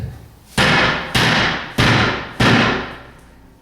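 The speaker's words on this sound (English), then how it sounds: "That's why we're using a rubber mallet, not a steel hammer." Four firm, evenly spaced thuds ring out, each a solid rubber mallet strike seating the joints of a wooden Nomad bed frame, with a short decay.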